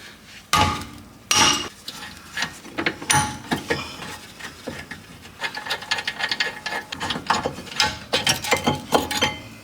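Ratchet clicking and metal tool knocks while undoing stuck M14 caliper bracket bolts on the rear brakes of a 2021 VW T-Cross, close up in a workshop, irregular bursts of clicks and taps.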